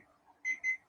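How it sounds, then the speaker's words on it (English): Two loud electronic beeps from a kitchen timer, close by and clean, each ringing about a fifth of a second with a short gap between, over a quiet room. "so this is my kitchen timer"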